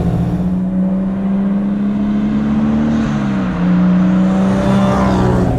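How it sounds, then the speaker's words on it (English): A steady, loud engine drone from a Mustang GT fitted with a 2JZ engine, with a rising whir of turbo spool and a throaty exhaust roar, continuous throughout. "You have the turbo spooling up. You have the exhaust roaring."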